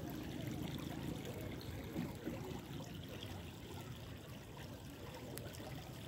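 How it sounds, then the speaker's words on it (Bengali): Floodwater flows rapidly in Shahrasti, Chandpur, Bangladesh, making a faint, steady rushing wash that runs unbroken throughout with no clear voices. "দ্রুত গতিতে নামছে বন্যার পানি"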